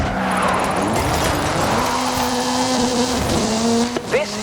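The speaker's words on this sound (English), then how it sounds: "This is Mr. Kenneth Block's Hoonigan Gymkhana 10 Ford Focus RS RX. 2-litre, turbocharged, front-mounted engine and all-wheel drive" In Forza Horizon 5, Ken Block's Hoonigan Gymkhana 10 Ford Focus RS RX, with a 2-litre turbocharged front-mounted engine and all-wheel drive, drones loudly under sustained revs, then its tyres chirp and squeal at the very end.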